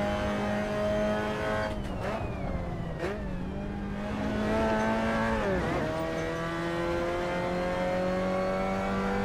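A race car engine in Assetto Corsa revs hard on the throttle, pitch climbing and dropping through gear changes with brief dips as it powers out of a corner, loud and continuous.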